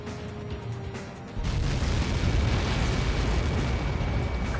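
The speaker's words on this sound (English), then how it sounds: "How many got caught in that explosion?" A massive missile blast in the Ace Combat flight video game erupts as a sudden, sustained roaring rumble that swells and holds loud for several seconds.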